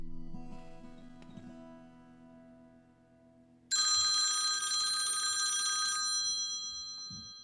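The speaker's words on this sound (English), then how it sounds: "The phone rang around 7:30." Telephone bell ringing loud and close in a quiet home, starting partway through and sounding in sustained bursts over a faint low hum.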